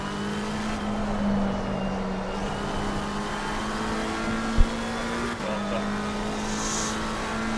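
A Ferrari GT race car in Assetto Corsa Competizione drones at a steady high engine pitch, dipping briefly as it shifts, with a single sharp thump midway and a faint voice talking over it.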